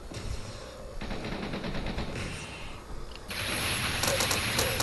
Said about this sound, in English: what I'm using is the first upgraded spike gun